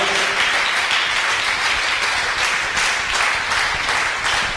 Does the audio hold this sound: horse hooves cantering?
no